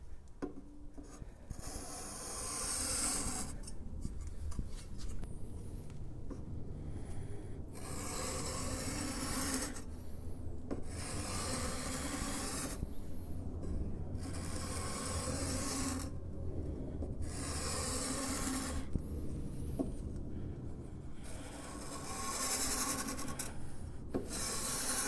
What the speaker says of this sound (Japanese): こんなスクレーパーがあるんですけど、これでガシガシ削っていくしかないかなと思います。